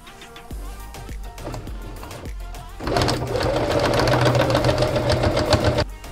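Sewing machine stitching a pocket lining on knit shorts, a few short stop-start bursts of needle chatter, then a sustained fast, loud mechanical hum for several seconds before stopping.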